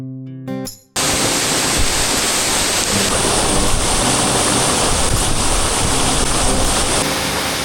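A loud, steady roar of rushing water fills the whole clip after a brief musical opening, like a powerful waterfall heard up close, in the Sahyadri hills near Waghbil cave.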